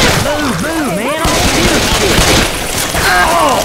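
Gunfire in the S.T.A.L.K.E.R. 2 video game, with repeated loud shots and booms over dense, continuous combat noise. Warbling whistling tones are layered on top.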